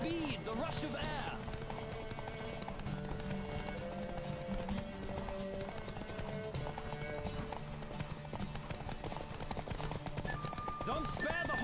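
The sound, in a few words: horse galloping in a race, from a Witcher video game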